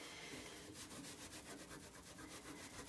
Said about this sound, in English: So again, just scrubbing.